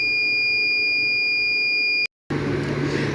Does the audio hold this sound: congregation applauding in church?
no